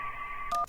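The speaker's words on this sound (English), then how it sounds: "That was a phone ringing underwater." A muffled phone ring from the video game Kentucky Route Zero, meant to sound as if heard underwater: a steady electronic tone held for about half a second, then a short burst of a second tone, close and alone.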